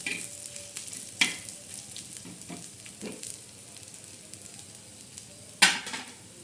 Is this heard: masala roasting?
yes